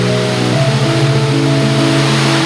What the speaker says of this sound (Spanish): Solo nos resta disfrutar de la caída del agua de más de 80 metros de altura